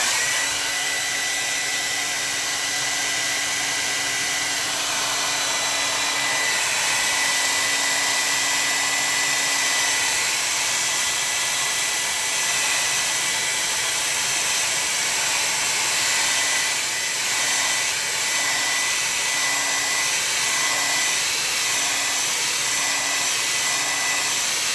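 A loud hair dryer blows steadily at close range to dry a watercolor painting, a constant roaring hiss with slight shifts in pitch as it moves.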